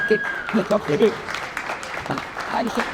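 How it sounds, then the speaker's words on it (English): An audience at a backcountry snowboarding talk gives a round of applause, moderately loud clapping mixed with voices talking over it. "So let's everybody give a warm round of applause for the power surfer."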